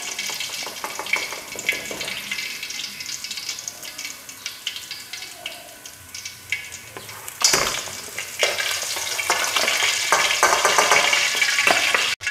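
Continuous crackling sizzle of fish frying in oil, with occasional clinks and stirring, and a louder spattering surge partway through. No talking.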